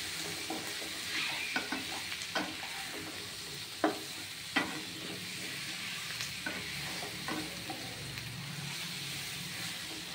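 Chicken with salt, dry chilli powder, turmeric, garam masala and cumin powder stir-fried in a pan for a Bengali chicken jhol: steady close sizzle with repeated scraping stirs and spoon knocks, no talk.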